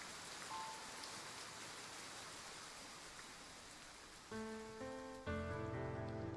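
Steady rain pours down in the video game Love and Deepspace, a dense hiss of a sudden downpour, with a chiming tonal effect appearing near the end.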